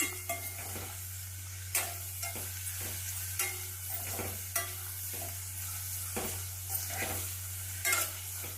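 Onions frying in oil for vegetable upma, with a spoon stirring and scraping the pan in regular strokes over a low, continuous sizzle, heard close with no voices.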